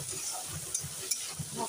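Onion, garlic, ginger and tomato fry together in a pan with a continuous close sizzle, marked by a few quick scraping stirs.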